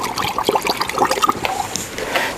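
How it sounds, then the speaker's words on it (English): Water poured into a CB-350 countertop batch freezer to rinse it, splashing and gurgling nearby in short, uneven sloshes for a couple of seconds. "I'm going to add a little water in here to rinse it out"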